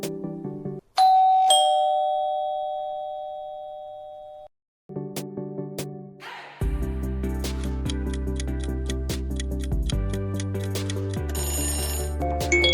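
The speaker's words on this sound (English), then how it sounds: "Exactly, it's the sound of a doorbell." A doorbell chimes with sustained ringing tones, followed by a longer bright ringing electronic melody that continues steadily to the end.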